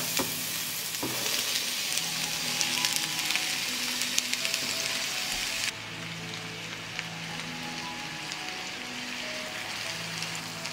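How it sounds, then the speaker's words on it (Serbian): Chopped onion drops into about 100 ml of hot oil in a pan and fries with a loud, steady crackling sizzle, close up. Midway the sizzle settles to a softer, even hiss, with no voices. "Ulje se zagrejalo i spuštam sada luk."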